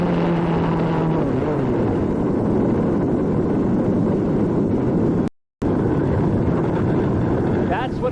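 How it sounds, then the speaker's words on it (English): A 1994 IndyCar engine lets go during the Marlboro 500, a loud sustained roar of the failing engine with falling pitch sweeps and a brief dropout, under a voice talking over the noise. "That's what it's like to hear an engine blow, begin to disintegrate."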